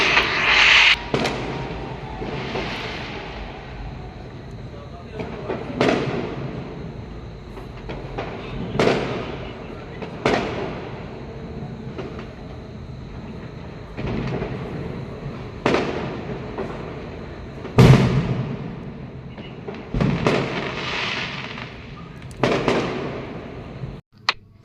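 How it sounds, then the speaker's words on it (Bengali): New Year fireworks at midnight pop and crackle at a distance, with sharp booms every few seconds over a low background hum and no voices. "তোমরা শুনতে পেলে বাজি পোড়ানোর কীরকম, মানে কীরকম আওয়াজ?"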